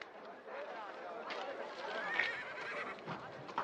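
A horse whinnies through the clip amid faint hoof clip-clops and background chatter, with voices talking over it.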